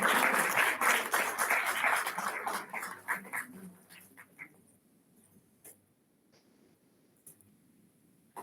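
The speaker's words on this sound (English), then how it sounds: "A big round of applause, please." An audience at a foundation day celebration applauds a chief guest being honoured with a shawl and bouquet, loud dense clapping for about three seconds that thins into scattered claps and fades to near quiet.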